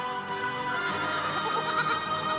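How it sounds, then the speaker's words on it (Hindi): A young goat kid bleats in a sustained, wavering cry, loud and near, with nothing else in the scene. "बकरी का बच्चा"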